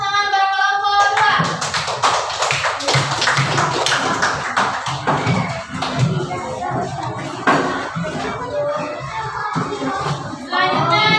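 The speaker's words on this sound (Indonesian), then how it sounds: "Tepuk tangan buat kelompok 2." Classroom applause for a student group, a burst of students clapping that carries on unevenly for several seconds with children's voices and shuffling mixed in.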